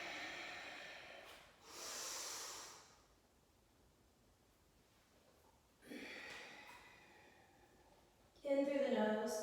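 Breath is pushed out audibly during a yoga flow, several soft breathy exhales spread across the stretch, with a louder closing breath near the end; the room is otherwise quiet.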